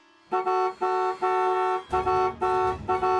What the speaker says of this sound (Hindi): हॉर्न बजाना नहीं हटती तो उड़ा दे